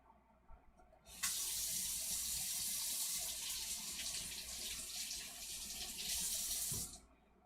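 Tap water runs steadily from a kitchen faucet into a sink while mushrooms are rinsed, a loud continuous splashing rush that starts abruptly after a second and cuts off near the end.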